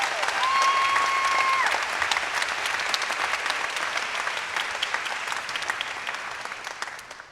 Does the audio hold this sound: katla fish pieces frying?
no